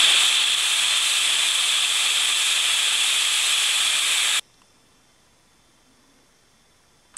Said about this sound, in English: So I'm going to cover all the rust with hairspray.